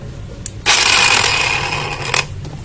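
A cordless brushless angle grinder with a grinding disc spun up to high RPM, a loud close whine that starts abruptly, holds steady for about a second and a half, then cuts off, with faint clicks before and after.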